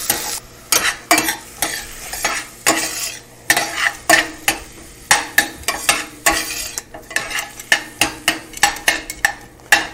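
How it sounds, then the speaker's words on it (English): Clams fry in a pan with celery for a linguine and cannellini clam sauce: a steady close sizzle runs under frequent scraping and clattering stirring strokes, with no talking. "We just want to fry these a little bit."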